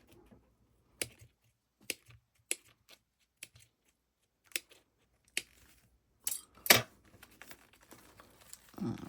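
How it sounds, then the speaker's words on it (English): Scissors snip fabric or thread while a crossbody bag is being sewn. Sharp, isolated cuts come close up with pauses between them, about ten crisp snips that grow denser toward the end, alongside faint rustling. "I'm going to snip this one."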